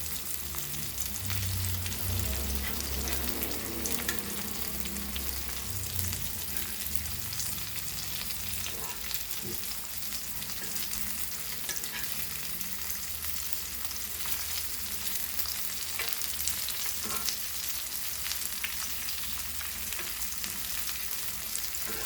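Sole fish coated in rava for a Goan fry sizzles and crackles steadily in a hot pan, close by and continuous, with occasional clinks and stirring.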